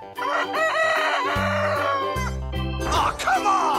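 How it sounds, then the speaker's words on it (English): Rooster crowing a long cock-a-doodle-doo, loud and near, followed by a shorter second crow and clucking, over cartoonish background music. "Chicken."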